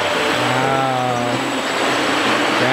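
Quadcopter fitted with 3D printed propellers taking off, a loud close whine whose rising tones climb and then settle into a steady buzzing roar.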